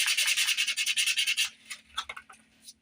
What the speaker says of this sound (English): I'm just going to rough that up with sandpaper just a little bit.